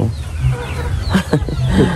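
Several roosters cluck and squawk up close in short bursts, loud and a bit raspy, with a low background rumble.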